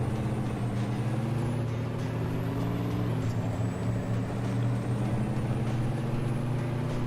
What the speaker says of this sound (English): Look at my truck go.